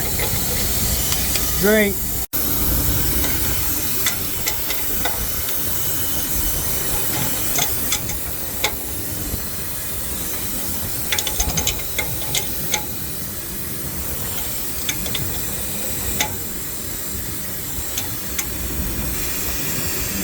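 Steady, loud hiss of compressed air escaping from the air hoses of a Freightliner 108SD heavy-duty truck, continuing for the whole stretch with occasional clicks and knocks and a brief spoken word.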